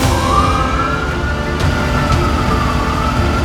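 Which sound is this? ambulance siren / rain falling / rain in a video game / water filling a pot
ambulance siren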